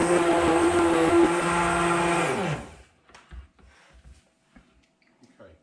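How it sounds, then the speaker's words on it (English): A hand blender whirs steadily for a couple of seconds blending courgette soup, then cuts off, leaving quiet clinks and soft handling noises. "because we need to blend this now into a soup."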